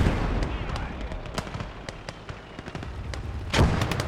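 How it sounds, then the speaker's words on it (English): Flak gun firing in Gates of Hell: Ostfront, a WW2 Eastern Front game, at a tank: a string of sharp repeated shots and booms over a steady battle din, with one heavier blast near the end. "the flag gun kept firing at my tank"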